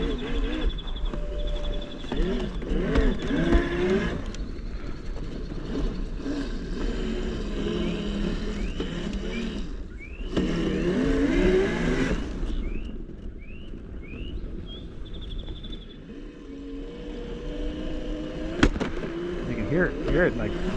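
A Blitzshark electric bike accelerates on throttle for a wheelie on a town ride; its motor whine rises and swells against steady wind rush, with a few chirping pitch sweeps and a voice speaking at times.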